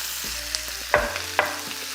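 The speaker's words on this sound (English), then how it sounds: "we're gonna let this saute for about 5 minutes" Sliced mushrooms and onions sautéing in a hot pan for Salisbury steak, a steady close sizzle punctuated by a couple of clacks from a utensil stirring, with a low hum beneath and no one speaking.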